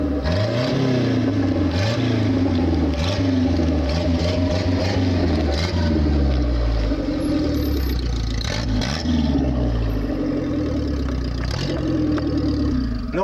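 A Peugeot 505 engine, missing its exhaust pipe, drones steadily with repeated revving surges that never climb as it fails to accelerate crossing the Bilma desert, rough and loud throughout, with some rattling clatter.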